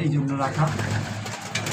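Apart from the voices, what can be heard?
pigeons cooing in a loft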